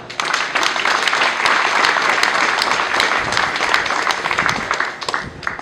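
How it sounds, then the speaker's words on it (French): An audience at a university gathering applauds the head of state, Félix Antoine Tshisekedi Tshilombo, with a steady, dense wash of many hands clapping at even loudness throughout, fading slightly at the end. "je demande à tous d'acclamer"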